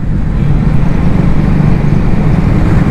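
Triumph Scrambler motorcycle on a highway ride, a steady low engine drone blended with heavy wind rush, loud and constant at cruising speed with no variation.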